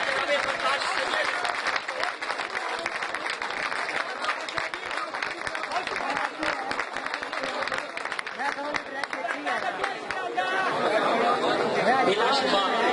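Enthusiastic audience applause at a poetry mushaira in Hasil Pur, steady dense clapping with crowd chatter mixed in, swelling louder toward the end.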